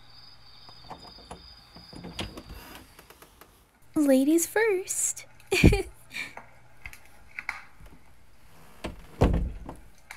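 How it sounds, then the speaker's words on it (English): A door opens with a few knocks and a thunk, set among light footsteps, handling noises and a nearby speaking voice. "Let me open the door for you."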